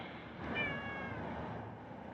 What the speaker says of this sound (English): Neighbor's cat is visiting.